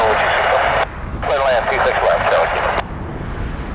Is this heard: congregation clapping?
no